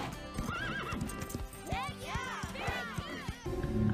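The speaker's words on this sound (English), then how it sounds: "This is where the wild horses are." Cartoon wild horses gallop with rapid clip-clop hoofbeats and repeated high neighs and whinnies, loud and close, with music and voices mixed in around them.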